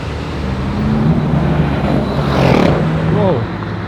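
Ferrari LaFerrari driving past in town, a rising and falling engine roar over traffic noise, growing louder then fading, with people talking over it.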